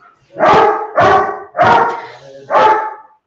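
Four loud, close dog barks in a steady rhythm, each a sharp bow-wow burst separated by brief pauses, with no talking over them.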